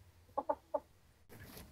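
A blue hen gives three quick, close clucks in a quiet space, followed by a burst of soft background noise.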